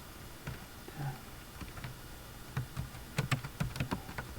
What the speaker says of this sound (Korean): NA라고 입력을 하고